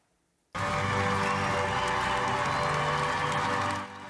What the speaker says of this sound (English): Applause and a standing ovation greeted the Queen as she arrived at the first of her official Platinum Jubilee celebrations